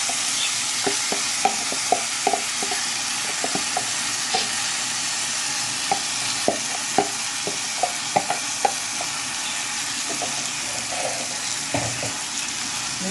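Rice being stirred in a pot, made up of repeated scraping and knocking strokes of a spoon against the pot over a continuous sizzling hiss, close and fairly loud, with no voices.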